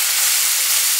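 Cucumber slices stir-fry in a hot pan for gimbap, giving a steady, loud, bright sizzle that runs unbroken for a moment with no voices.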